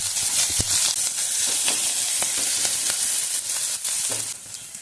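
Sliced onion, green chilli and ginger hit hot oil with cumin for an aloo paratha filling, a loud continuous close sizzle broken by soft stirring scrapes.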